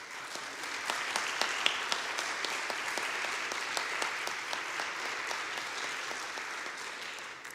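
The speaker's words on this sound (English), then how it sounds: "let's give them another round of applause" Church congregation at a Unity service applauds an anniversary couple, a dense, even wash of clapping that carries on steadily for several seconds with no talking over it.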